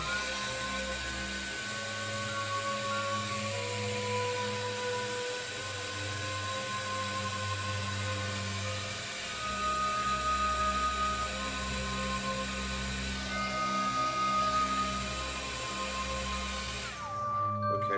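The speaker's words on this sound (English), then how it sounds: "we'll go ahead and we'll hit it with our heat tool again" A heat tool drying craft paint gives a steady close motorized whir and blowing hum with shifting pitch, running continuously for most of the stretch before cutting off at the end, with no talking.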